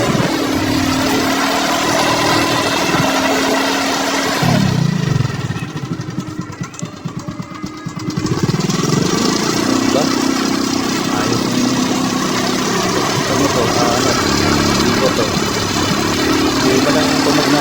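A Honda XRM110 motorcycle engine idles steadily up close in a home workshop during swingarm replacement, a continuous loud drone with a brief dip in the middle before it settles back to a constant run.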